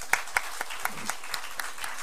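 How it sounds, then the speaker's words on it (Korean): A church congregation claps during a Sunday service, sparse, separate claps at an irregular pace, with a faint voice underneath. "그럼 박수합시다."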